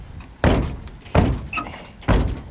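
Car door on the Chucky build, a door that drops about an inch when opened, shut three times in succession, each a loud close thud with a short rattling tail and a brief clink between the second and third.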